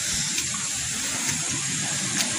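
Swollen river rising after heavy water flow, rushing steadily as a broad, continuous roar close by, with no voices over it.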